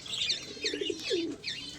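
A large pigeon coos close by, giving several soft, low, throaty rolling coos in quick succession, with faint bird chirps and rustling in the background.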